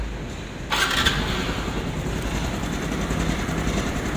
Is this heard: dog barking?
no